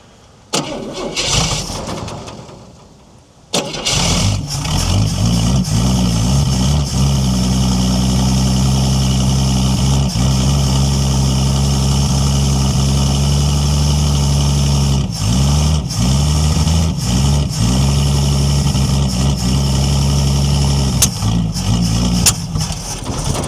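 A 1968 Ford Falcon left parked since 1990 cranks briefly and fires up, then settles into a loud, steady idle with a few dips and stumbles over about twenty seconds.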